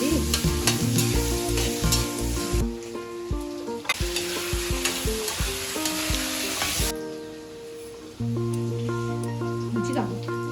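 Potatoes frying in oil in a pan, a steady close sizzle with stirring scrapes and clinks, while a voice talks over it in places.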